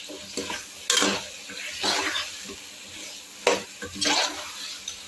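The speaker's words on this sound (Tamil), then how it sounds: "இப்போ அடுத்து வந்து நம்ம சிக்கன் சேர்த்துக்கலாம்" Half a kilo of chicken sautés in an oily masala for dum biryani, a soft sizzle under repeated stirring and scraping strokes against the pot, with no talking.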